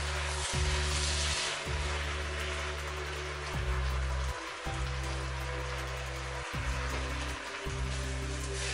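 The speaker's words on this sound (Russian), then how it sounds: "Тушу яблоки до мягкости." Steady sizzling and bubbling of apples stewing in a pan until soft, a soft continuous hiss with a low hum underneath.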